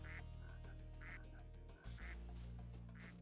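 Repeated duck quacks from Spyro 2: Ripto's Rage, four evenly spaced bright calls over a steady game music bed, loud and close with a brief dip midway.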